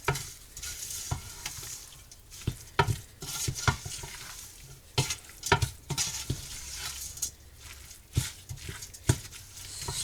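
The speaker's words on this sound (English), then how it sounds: "Stir that around." Garden vegetable pasta sauce with tomatoes and spicy Italian seasoning is stirred in a pot, repeated scraping strokes and wet sloshing over a low sizzle, close and steady, with no voices.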